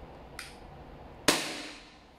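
A WE Glock 34 Gen 3 airsoft pistol fires a single BB with one sharp, close crack and a short decaying tail, preceded by a faint click.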